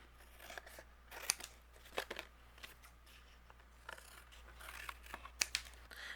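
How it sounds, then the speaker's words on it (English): Scissors snip close by, trimming excess paper from a crafting die-cut project, a series of short crisp cuts at an irregular pace with light paper rustling between them. "I'm going to use my scissors, and I'm going to trim off the excess here"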